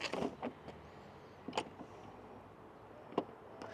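Soft-close doors on a BMW G01 X3 pull themselves shut, giving a few quiet, separate mechanical thunks and whirs against a hushed background.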